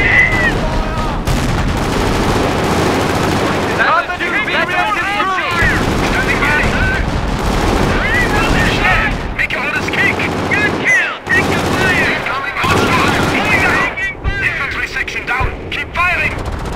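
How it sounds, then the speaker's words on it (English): Infantry gunfire in the video game Company of Heroes, with loud, continuous rifle and machine-gun bursts layered with battle noise while shouted voice lines run over the top. "Firing! We are ready for action!"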